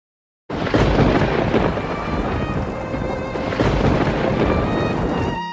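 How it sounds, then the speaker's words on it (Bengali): Thunder rumbles through heavy rain in a cartoon storm scene. After a brief silence the sound starts abruptly, then keeps up as a loud, dense, continuous roar with no speech. "বাইরে কত জোরে জোরে বিদ্যুৎ চমকাচ্ছে আর কত বৃষ্টি হচ্ছে।"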